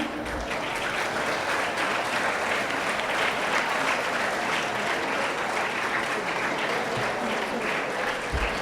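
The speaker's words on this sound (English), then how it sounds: "Now I request all of you to welcome our Honorable Chief Guest, Dr. Madan Bala, with huge round of applause." Sustained applause from a school annual day audience greeting the chief guest, a dense, steady wash of clapping that holds evenly for the whole stretch with no gaps.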